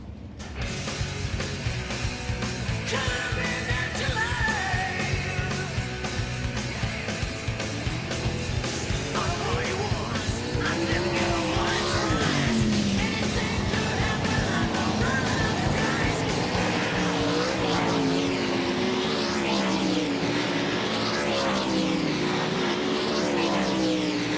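World of Outlaws sprint cars lapping Volusia Speedway Park dirt oval during a practice session, engines roaring continuously with rising and falling passes, loud and steady throughout.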